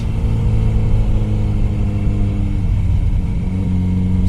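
A Kawasaki motorcycle engine holds second gear on a cross-country road trip near Saguaro National Park, Arizona, giving a loud, close, steady rumbling drone with wind over it and no voices.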